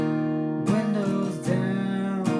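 Acoustic guitar strumming a simplified pattern for the verse of a song, sustained chords changing a few times in a steady rhythm, close and clear with no talking.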